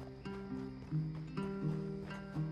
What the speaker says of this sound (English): I'm on my horse.